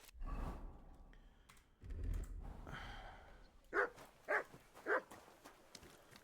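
Three short, loud dog barks from a dog in the video game Kingdom Come: Deliverance II, evenly spaced and close, following a stretch of low rumbling ambience and soft scuffing sounds.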